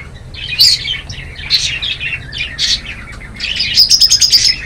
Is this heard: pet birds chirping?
yes